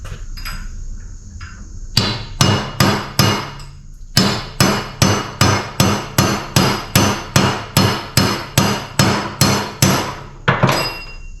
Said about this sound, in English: Just take a punch and a hammer.